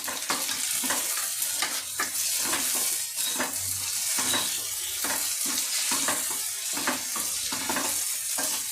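Chopped tomato fries with ginger, garlic and chilli in a pan, a continuous close sizzle broken by regular scraping and stirring clatter from a utensil.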